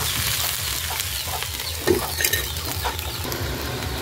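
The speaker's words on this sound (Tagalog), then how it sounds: "mix pa natin ang ating mga gulay" Pinakbet vegetables being stirred in a pan, with a steady low sizzle and scraping under a continuous hiss, a couple of louder clacks of the utensil near the middle.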